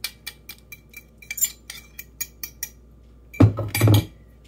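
A metal utensil scraping and tapping against a pot to get the cheese out for semi-homemade mac and cheese, a series of sharp clinks and taps followed by a louder, longer scraping burst near the end.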